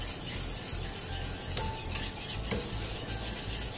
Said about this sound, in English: I'm just going to stir that.